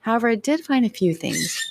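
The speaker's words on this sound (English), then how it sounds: "Oops, excuse the birds." Birds squawk loudly and close by, harsh calls mixing with a man's speech and briefly standing out on their own near the end.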